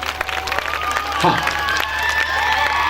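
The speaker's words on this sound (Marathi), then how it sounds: "एकदा जोरदार टाळ्या झाल्या पाहिजे" Applause from a crowd of women at a Marathi Khel Paithnicha community event in Dhalgaon, steady clapping with crowd noise and some voices mixed in, fairly loud and continuous.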